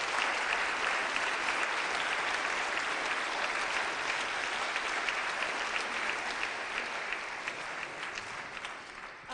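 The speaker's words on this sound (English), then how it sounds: "A big round of applause for them." Sustained applause from an audience at a women's squash open final, a dense, steady wash of clapping that carries on without a break and eases off slightly near the end.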